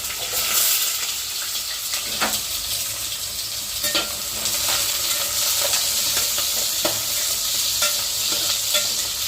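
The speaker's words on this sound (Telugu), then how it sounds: "నూనె అయితే వేడెక్కింది, ఎర్రగడ్డలు అయితే వేసుకున్నాము. తర్వాత పచ్చిమిరపకాయలు వేసుకున్నాము." Onions and green chillies fry in hot oil, making a constant sizzle with repeated scraping stirs of a spoon against the pan at an irregular rhythm.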